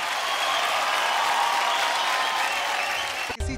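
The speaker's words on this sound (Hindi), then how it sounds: "जोरदार तालियां" A studio audience at a televised Indian Idol singing show gives dense, steady applause for a few seconds before it cuts off sharply.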